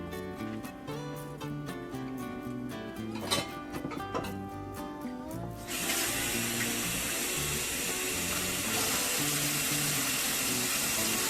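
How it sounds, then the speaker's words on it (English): Water poured into a pot of pears while making pear jelly, starting partway through as a steady, loud rushing pour that continues to the end, with a tonal background heard beforehand. "To this, we're going to add 2 cups of water."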